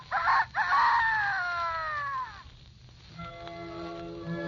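A rooster crows once, a loud drawn-out cock-a-doodle-doo that falls away in pitch, in an old-time radio show for children; a soft steady tone carries on behind it after the call ends.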